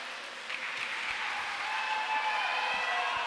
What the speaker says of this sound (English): She has all her teammates cheering for her.